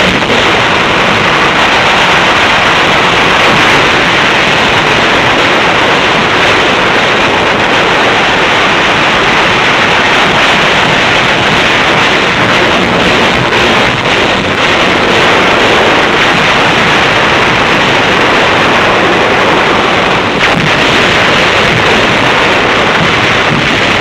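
Naval guns of a World War II task group firing anti-personnel rounds at a surfaced U-boat, a continuous loud roar of gunfire and blasts blending into a dense, unbroken wall of noise.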